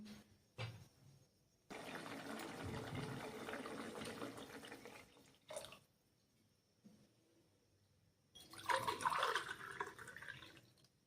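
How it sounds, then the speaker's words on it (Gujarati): Water from a glass pours into a cooking pot of matar pulao in several separate bursts, each a splashy rush lasting a second or a few, with quiet gaps between and the last pour loudest. "હવે આપણે આમાં બે ગ્લાસ પાણી એડ કરી દઈશું"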